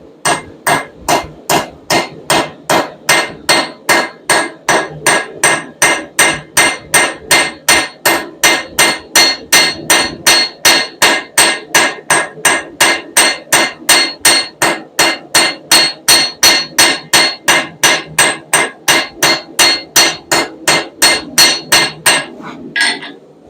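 Steady hammer blows drawing a bevel on the edge of a steel hummingbird wing at the forge, dozens of sharp, ringing metallic strikes at an even brisk rhythm, close and loud, no talking.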